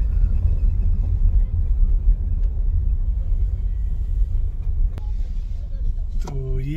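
Heavy road traffic jammed near Bacha Khan International Airport in Peshawar, a continuous low rumble of idling and crawling vehicles close by, with a brief horn-like tone near the end.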